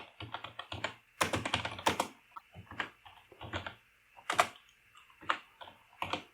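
Keys clatter on a computer keyboard in close, irregular bursts of rapid taps, with short pauses between runs of typing and a few louder strikes.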